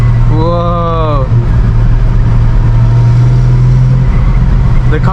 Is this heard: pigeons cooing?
no